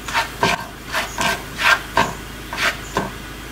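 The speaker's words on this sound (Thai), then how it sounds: "จากนั้นก็ใส่พริกไทยโขลกลงไปผัดพอหอมก่อนนะคะ" Coarsely pounded black pepper stir-frying in a pan while cooking bok choy with oyster sauce, giving about eight short rasping sizzles and scrapes at a steady pace, close and clear with no talk.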